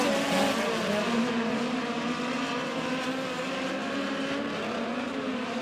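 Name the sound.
midget race cars racing on a speedway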